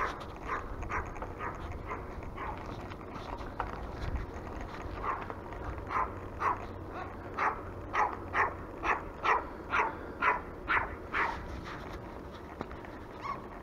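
A dog named Mr. Axel barks outdoors, a steady run of regular, moderately loud woofs that speed up toward the end over a low background hum.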